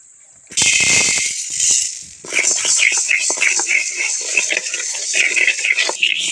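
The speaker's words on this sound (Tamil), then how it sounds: "நல்லா பொன்னரமாக வறுத்துக்கலாம்." Urad dal dry-roasting in a pan while being stirred, giving a bright, dense crackle and rattle of grains over scraping strokes, loud and close, after a brief quiet start.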